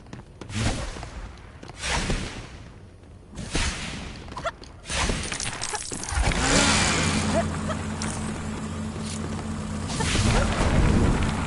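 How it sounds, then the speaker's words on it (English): Engine of the flying car in the Lego Harry Potter video game, a mid-pitched motor drone that swells and revs steadily through the second half, after a few bursts of game effects. "Hey, the flying car's here."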